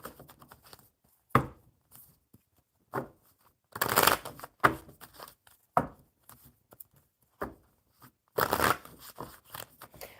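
Tarot cards being shuffled in short bursts, riffles and slides separated by pauses, close and fairly quiet, with no talking.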